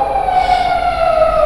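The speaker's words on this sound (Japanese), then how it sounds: "珍しいですね、この近くをパトカーが通るっていうのは" A police car siren wails loudly and steadily, its pitch drifting slightly downward as the car moves past, with no voices.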